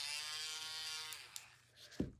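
A power sander buzzes steadily against an EVA foam seam for about a second, then winds down, followed by a faint knock.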